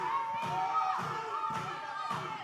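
A packed capacity crowd at an OVW Rise professional wrestling show roars steadily and loudly, with rhythmic thumping beats, like stomps or pounding, landing about twice a second throughout.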